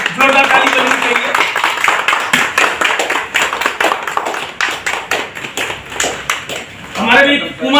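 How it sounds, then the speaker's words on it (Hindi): Audience clapping at a welcome ceremony in Umargam, India: loud, close, rapid applause with sharp individual claps, swelling and fading over several seconds, with a voice speaking over it toward the end. "जोरदार ताली बजनी चाहिए।"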